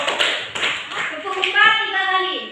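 A school class in a high-school guidance session claps a counted rhythm in sharp, bright bursts, several quick claps in groups, with children's voices and a tonal sound joining in toward the end.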